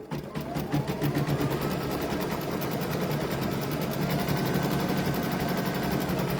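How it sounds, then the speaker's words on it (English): An embroidery machine runs a tack-down stitch on a sweatshirt with a ribbon bow, giving a steady, fast, close mechanical whir and needle rattle that continues without pause. "now I'm going to run my placement, or my tack down stitch"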